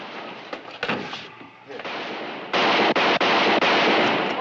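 Gunfire in a Western shootout: bursts of sharp gunshots, some spaced apart and some in rapid clusters, loud and close, continuing over several seconds.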